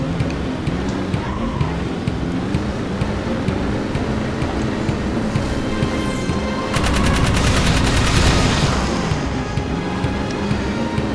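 Vehicle gunfire in Jak 3 shoots at nests during a sandstorm level: a droning engine runs throughout, then a rapid, loud burst of machine-gun fire cuts in for a couple of seconds before easing back under the engine.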